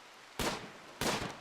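Two loud, close gunshots from the Rimworld game, Alpha 13, about half a second apart, each a sharp broadband crack that decays quickly, with no one talking.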